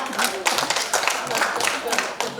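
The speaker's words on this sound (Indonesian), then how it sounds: "Sekali lagi tepuk tangan yang meriah." Audience applause after a contestant's turn at a psalm reading contest, a steady wash of many hands clapping at close range with no pauses.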